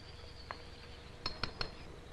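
Three quick, light taps ring out on a thick, solid glass-like object, crisp clinks with a bright ring, preceded by one softer tap, in a quiet room with faint hum.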